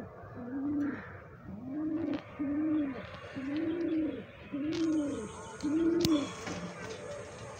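Pigeons kept in a home loft coo in a steady rhythm, about six low, rounded calls repeated close by, with faint chirps and soft background clatter.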